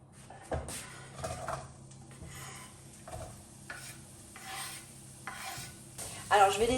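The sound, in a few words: onion cooking in olive oil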